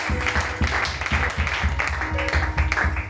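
A church congregation at a Sunday service applauds to acclaim the Lord, with loud, continuous rhythmic clapping filling the room and a voice faintly heard beneath it.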